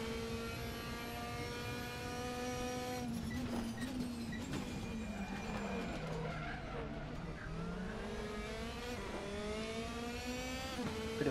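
Race car engine in the Raceroom sim during a rallycross race, revving up and down through gear changes with tire squeal as the car is wrestled through corners, steady and continuous.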